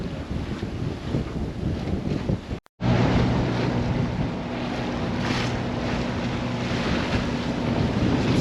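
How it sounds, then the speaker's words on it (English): Strong wind roars across the microphone aboard a Morgan 382 sailboat at sea, with continuous rushing gusts and water wash, a brief dropout early on and a low engine-like hum underneath, no talk. "Some serious wind out here."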